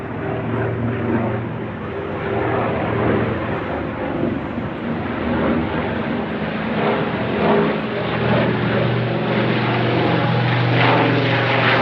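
Loud, steady drone of propeller aircraft engines, a continuous deep roar that holds strong throughout, close overhead.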